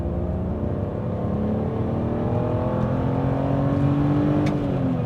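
A BMW E46 330ci pulling hard in second gear, its inline-six engine note climbing steadily in pitch over about five seconds, loud and continuous from inside the car with no talking.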